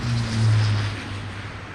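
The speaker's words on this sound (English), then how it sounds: "70-degree angle of bank straight into a right-hand turn after takeoff" A fixed-wing aircraft engine roars steadily during takeoff at the RIAT air display, a loud low drone that eases slightly toward the end.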